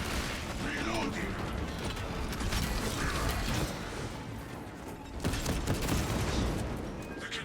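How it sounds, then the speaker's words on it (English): Bolt rifle reloading in Space Marine 2 gives off steady mechanical clicks, ratcheting and metallic creaks, with a louder clack near the end, all over a dense game soundscape. "Reloading."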